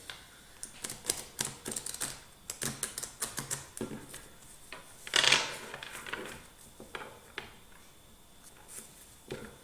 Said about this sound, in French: on va battre les cartes pour voir ce que les guides ont à nous dire comme message